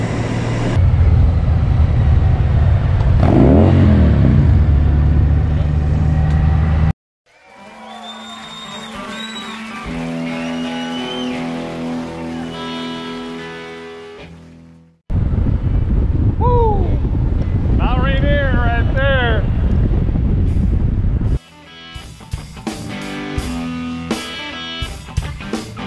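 Motorcycle ride with heavy wind buffeting the microphone, a low engine drone under loud roaring gusts, broken into separate segments with changing road and engine tones.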